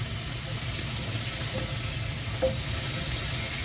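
Food frying in a very hot pan for a waffle eggs Benedict, a steady close sizzle of searing with a couple of small pops, no talking over it.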